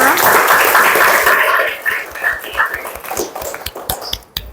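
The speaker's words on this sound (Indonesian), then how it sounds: "Tepuk tangan untuk kita semua." A classroom group bursts into applause, a dense wash of clapping from many hands that thins after about two seconds into scattered, tapering claps and taps.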